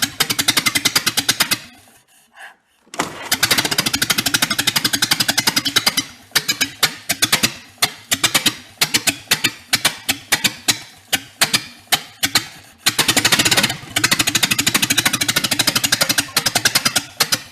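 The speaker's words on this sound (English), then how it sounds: "Let's go give her another crank." Engine of a 1931 Ford barn find cranking over on the starter, a loud rapid mechanical chugging in repeated bursts with brief pauses, close by and without talk.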